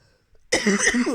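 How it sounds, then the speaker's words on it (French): A single sharp cough bursts out after a moment of near silence, harsh and close, trailing into a rough throaty tail; no words are spoken. "Excusez-moi, je tousse."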